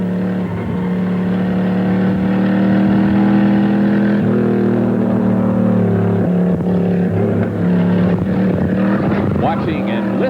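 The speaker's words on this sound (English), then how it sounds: "Let's go in car now with Rick Payne, car number 75" Onboard race car engine from car number 75 lapping Race City Speedway during a 1990 GM Motorsport final, a steady loud drone with shifts in pitch, heard under a voice-over.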